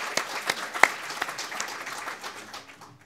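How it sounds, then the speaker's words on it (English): Audience applause after a conference talk on parasites and wildlife disease, a short round of clapping that rings out for a few seconds and then fades. "So another round of applause for Freya."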